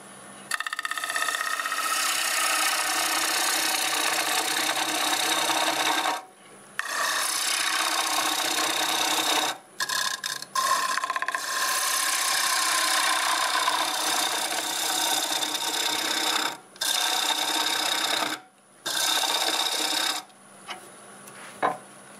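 A wooden bowl spinning on a wood lathe as the gouge cuts into it, giving loud scraping, hissing bursts that stop and start several times in short pauses, with no talking.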